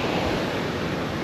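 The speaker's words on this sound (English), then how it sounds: "Got the tide coming in. So it's still a little bit windy over here" Ocean surf rolls in on a windy beach as the tide rises, a loud, dense, unbroken roar of waves mixed with wind buffeting, close and steady with no talking.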